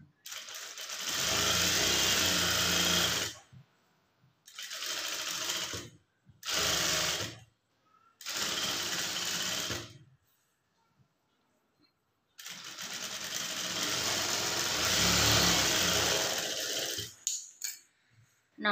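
A sewing machine stitches a blouse neckline along a marked round-neck line, running in several loud bursts separated by short pauses, with a long continuous run near the end.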